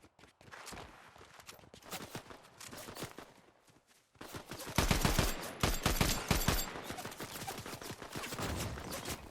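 Fortnite gunfire crackles in rapid bursts, quieter at first, then louder, denser volleys after a short pause, with footsteps mixed in.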